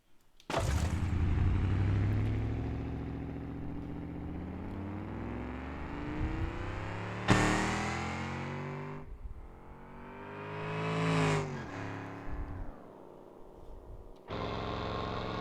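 A car in the BeamNG driving game runs down a big ramp built with the track editor, its engine revving and whirring in long continuous surges, rising and dropping several times, loud and close with no talk.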